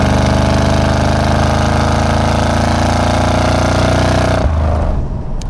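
A 1981 C3 Corvette engine roars loud and close in a sustained, even drone under load, then drops abruptly to a lower rumble near the end.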